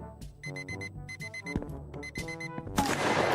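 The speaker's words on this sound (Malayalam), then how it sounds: "എടാ അലാറമേ, നീ എവിടെ കിടന്നിട്ട് അടിക്കുന്നത്?" A phone alarm inside a zombie video game rings in repeating electronic beeping bursts, moderately close, ending in a sudden noisy crash.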